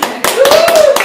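Hands clapping at a gastrointestinal diseases exam review session, a short burst of several sharp claps in quick succession, with a voice speaking over them.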